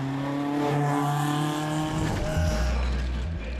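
A Matra sports car engine with no noise insulation roars loudly up close, revving with shifting pitch, then dropping to a deeper rumble.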